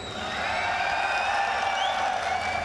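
A crowd at the IEM GamesCom esports event in Germany cheering and applauding, with sustained clapping, whoops and shouts building and holding for a few seconds.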